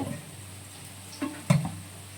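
Potato slices frying in hot oil in a home kitchen, a low steady sizzle with a few soft stirring scrapes and clinks of a utensil against the pan.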